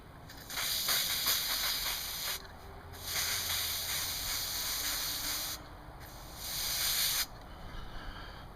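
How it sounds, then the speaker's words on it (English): Canned air blasting tree sap off faded black car trim in three separate loud hissing bursts of a second or two each, separated by short pauses, with no voices. "here we have some tree sap, and here we have some canned air"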